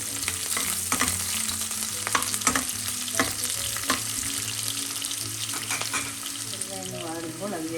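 Sliced onion fries in coconut oil with popped mustard seeds for a long-bean stir-fry, sizzling steadily and close while a spoon scrapes and clicks against the pan in irregular strokes.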